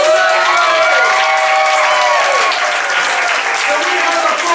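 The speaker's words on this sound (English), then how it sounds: "Give him a round of applause!" A live audience claps loudly and steadily throughout at a Stranger Things cast event, dense continuous applause with some cheering and voices mixed in.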